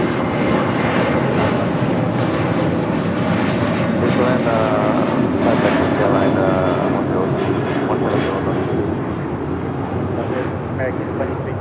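An American Airlines Boeing 737-800 departs Los Angeles International Airport for Indianapolis, its jet engines producing a loud, steady, broadband roar that holds throughout, with wind buffeting and voices talking beneath it.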